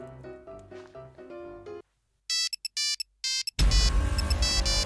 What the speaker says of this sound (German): Herr Axel Kracher ruft an